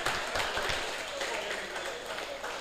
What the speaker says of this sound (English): Please, another round of applause for the principal, Federal Government College, Enugu.